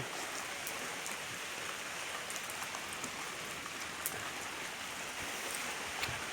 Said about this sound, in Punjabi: ਕਿੰਨਾ ਕੁ ਮੀਂਹ ਪੈ ਰਿਹਾ ਦੇਖ